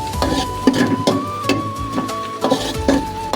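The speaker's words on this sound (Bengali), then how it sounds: "পেঁয়াজ কাঁচামরিচ এগুলা ভাজাভাজি চলছে" Onions and green chilies fry in a pan for a home-cooked egg curry, a steady sizzle broken by repeated scraping strokes of a stirring utensil at close range.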